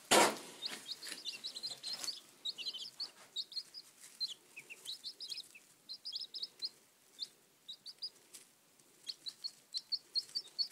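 Young chicks, a mix of Cornish Rocks, Red Sex Links and Brown Leghorns, peep in a steady stream of high, close chirps, with short bursts repeating throughout and no talking.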